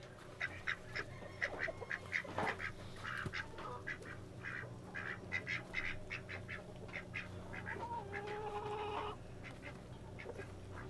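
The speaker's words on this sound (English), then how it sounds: "Hi, ducks." Ducks on a farm quacking in a steady, busy chatter of repeated calls, fairly close, with other fowl and faint background noise mixed in.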